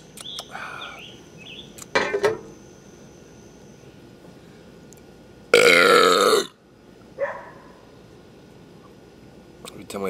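A loud, long burp bursts out midway, preceded and followed by a few shorter voiced sounds against a quiet background.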